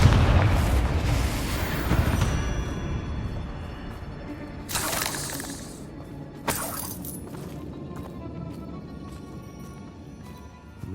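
A Confringo fire spell explodes in Hogwarts Legacy during a fight with Ranrock's loyalists, opening with a loud booming blast that rumbles and decays, followed by two sharp crackling bursts of debris or further impacts.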